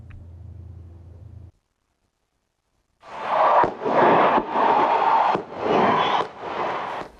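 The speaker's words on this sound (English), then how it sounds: "Fireworks and fanfare started the first NBA season game in the Delta Center." Fireworks burst in a run of loud, heavy booms and crackles at the opening NBA game inside the Delta Center in Salt Lake City, following a brief low rumble and a moment of silence.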